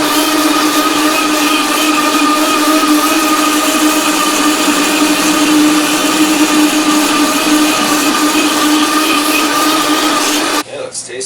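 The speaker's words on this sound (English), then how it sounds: "let's get that all in our Vitamix blender here and puree it up" A Vitamix blender purees a spicy, salty-sweet marinade for bison jerky, roaring loud and steady at close range with a constant motor whine before cutting off abruptly near the end.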